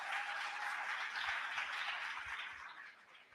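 Sustained audience applause at a White House economic opportunity fair, a dense wash of many hands clapping that carries steadily before tapering off toward the end.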